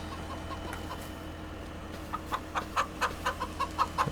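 Chickens clucking in the Farming Simulator 25 video game, a run of short clucks rising out of a steady low ambient hum, moderately near.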